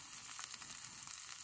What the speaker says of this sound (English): If you like the skin crispy, you can leave it in the pan.